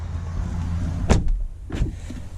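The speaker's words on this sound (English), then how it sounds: "But then, shutting the door," A 2019 Audi Q8 door shuts with a solid, heavy thud, followed about half a second later by a second, softer closing sound, over steady low background rumble with no talk.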